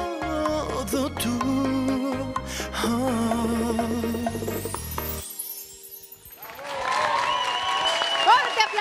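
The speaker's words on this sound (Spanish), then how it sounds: "¡Fuerte aplauso!" A bachata song ends abruptly and, after a moment of silence, the audience breaks into loud, building applause with scattered cheers.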